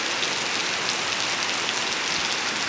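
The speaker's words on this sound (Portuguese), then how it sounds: "aperfeiçoando uma belíssima chuva neste momento" Steady, even rain falls in the Serra da Aratuba mountains, a dense continuous hiss of drops with no pauses and no voices over it.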